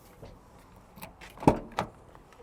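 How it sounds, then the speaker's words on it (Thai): A four-wheel-drive pickup's door is opened at a used car lot: two quick mechanical clicks and thumps of the latch, close by, with faint background noise. "อ่ะเดี๋ยวให้กล้องเปิดประตูด้านนี้นะครับ เดี๋ยวผมจะเปิดฝั่งนู้นให้ดู"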